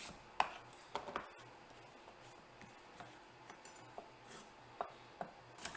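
Knife slicing a small garden yellow squash into half moons on a cutting board, a series of crisp, spaced chops close up, with no voices.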